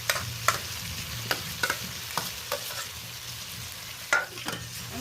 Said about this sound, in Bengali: এই পর্যায়ে আমি ভেজে রাখা ঝিঙে আলুটা দিয়ে দিলাম।